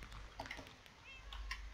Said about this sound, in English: Even if I run from the hunters, I'm gonna still meow until my last meow.